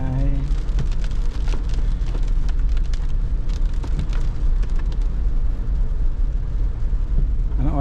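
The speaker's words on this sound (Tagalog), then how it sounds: "Pumapatak na naman ang ulan sa bubong ng bahay." Steady rain drumming on a house roof, a dense continuous patter filling the whole stretch at even loudness, with faint voices mixed in underneath.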